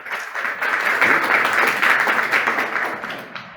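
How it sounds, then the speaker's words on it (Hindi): A spiritual gathering's audience claps loudly in a sustained, dense burst of applause that swells, holds steady and then tapers off near the end. "जोर से ताली बजाओ"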